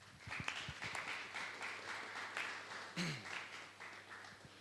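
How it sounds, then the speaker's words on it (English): An audience at an award ceremony applauds, a moderate spread of claps with a few sharper individual hits, fairly distant and even throughout. "I would like all of you to give a big applause to Ian Appelhaak"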